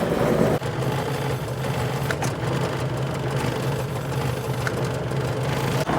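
A Mk1 Ford Escort engine idles steadily with a low, even hum and faint mechanical rattle, close by and alone without talk.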